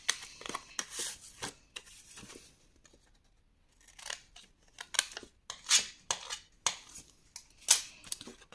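Scissors snip paper while a gift box is made for scrapbooking. The cuts come as sharp, close, irregular snips, a few seconds of quiet split the first bursts from the later ones, and no one speaks.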